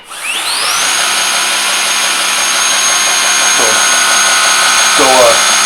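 An affordable 2x72 belt sander and knife grinder spinning up and running, a loud steady motor whine with a rising pitch at the start, holding constant close by with faint belt rattles.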